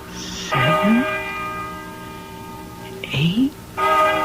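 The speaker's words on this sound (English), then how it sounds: "Listen to that bell." A bell tolls the hour, heard from inside an old barn, with three strikes that each ring on in a long, humming decay and leave quiet gaps between them.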